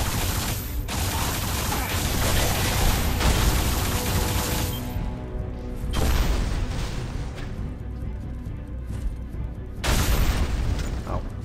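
Loud, rumbling booms and bursts from explosions in the first-person shooter Alien Rage, dense and continuous with a few sharp swells and brief lulls, played over game sounds.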